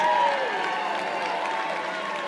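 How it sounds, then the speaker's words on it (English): Applause from a seated crowd honoring emergency nurses at an awards ceremony, a steady wash of clapping with faint voices underneath, continuous for a couple of seconds. "Big round of applause for our emergency nurses."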